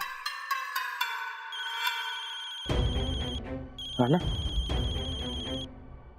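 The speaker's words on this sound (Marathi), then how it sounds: "अरे उचल की मर्दा फोन लवकर" A phone ringing with a repeating electronic ringtone melody, clear and continuous, while dramatic background music swells underneath partway through.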